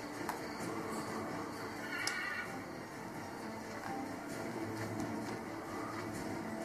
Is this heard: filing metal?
no